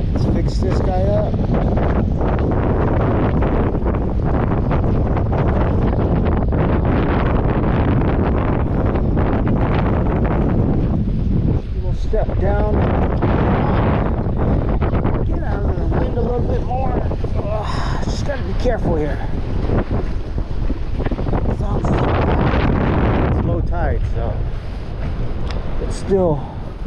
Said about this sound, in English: Still pretty dang windy out here.